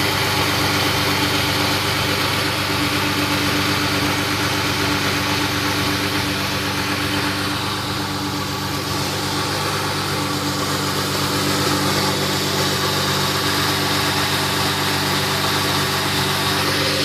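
A 1999 Mustang's 3.8 V6, freshly swapped in with high-flow cats and stock headers, idles with a tiny shake, giving a steady, close, loud low rumble that holds unbroken throughout with no talking.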